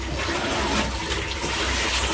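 Water rushes and drains in a loud, continuous flushing wash, close and steady throughout.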